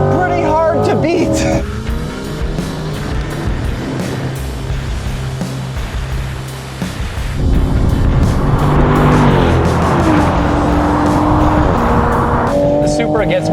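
A Chevy Corvette Stingray and a Toyota GR Supra launch side by side in a drag race, engines roaring loud and continuous with rising revs and tire noise, the engine note climbing again after a brief dip midway.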